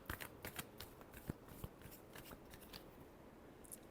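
Tarot cards being shuffled in a final shuffle for a Libra reading: a run of soft, close riffling and flicking bursts with a few sharper snaps, steady for about four seconds with no talking.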